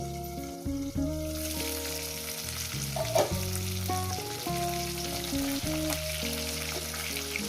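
Tengra fish frying in a pan, a steady, close sizzle of hot oil with occasional stirring and clinks, under background music.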